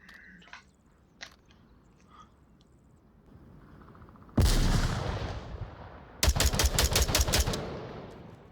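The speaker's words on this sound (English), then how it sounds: "I'm going to turn around and shoot one of those moving targets right there" Gunfire in the VR shooter Onward: a sharp single shot rings out and decays, then a quick rhythmic burst of several rapid shots follows, loud and close after a quiet stretch of faint clicks and handling sounds.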